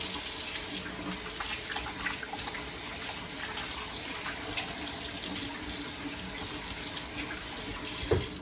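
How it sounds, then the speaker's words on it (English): Hot water runs steadily from a kitchen tap while hands are washed with soap, a continuous close splashing hiss that holds even throughout, with no voices. "the first thing we're going to do is wash our hands, hot water, lots of soap, tops and bottoms"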